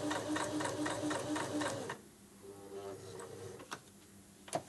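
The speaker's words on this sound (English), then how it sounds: "I'm top stitching through lots of layers" A sewing machine top stitches through many layers of fabric, running in a rapid, rhythmic close-up burst, then stopping, followed by a few faint handling clicks.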